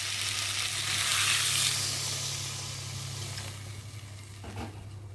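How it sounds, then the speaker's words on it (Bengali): Pointed gourd and potato frying in a pan hiss and sizzle steadily as water is poured in, the burst of steam easing into a softer simmer over a low hum, with no talking. "এখন আমি দিয়ে দেবো পরিমাণ মতো জল"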